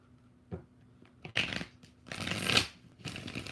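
Tarot cards are shuffled in several quick bursts of papery riffling and flicking, close and fairly quiet, with brief pauses between.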